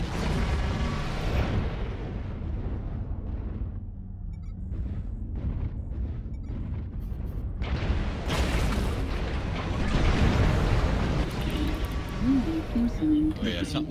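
Artillery strikes pound mechs in MechWarrior Online, a dense series of heavy booming explosions and rumbling blasts layered over ongoing battle noise, loud and sustained with bursts building toward the end.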